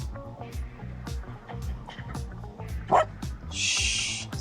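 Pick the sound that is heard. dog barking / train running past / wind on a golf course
dog barking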